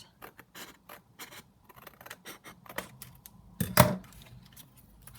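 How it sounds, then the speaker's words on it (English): Scissors snipping through paper along the top edge of a decorated junk journal page, a series of short crisp cuts followed by one louder, longer snip near the end, close by with no talking. "then we'll cut this along the top"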